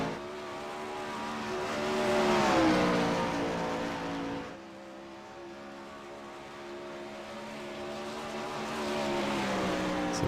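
A 410 winged sprint car at Knoxville roars through a flying lap, its engine note climbing and sweeping as it exits turns 3 and 4, loud and steady with a brief dip midway before building again.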